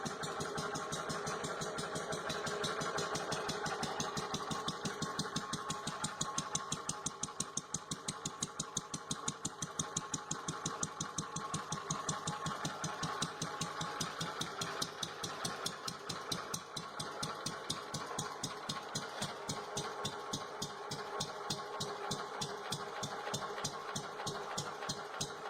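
A century-old Wolseley antique marine engine runs steadily, its rapid, even exhaust pulses repeating close and loud for the whole stretch with no other sounds.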